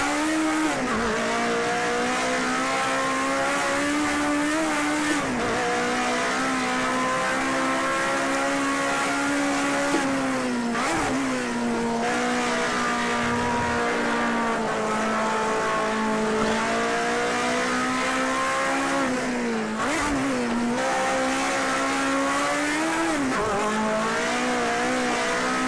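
A race car in Project CARS 2 drives hard around a track, its engine a steady, loud, high-pitched whine that rises and dips with gear changes and throttle, with brief tire squeal as it slides.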